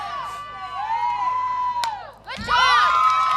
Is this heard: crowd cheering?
yes